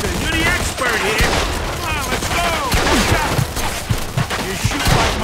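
Mafia II shootout with rapid gunfire cracking in irregular bursts, loud and close, mixed with shouting voices and crashing impacts throughout.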